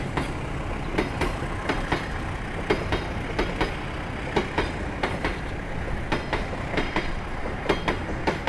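A passenger train departs Tegal station with a loud, rhythmic clickety-clack of wheels passing over rail joints, repeated clanks coming in irregular bursts over a steady rumbling roar.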